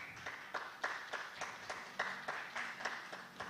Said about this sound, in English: Please give our big round of applause to Professor Bauer.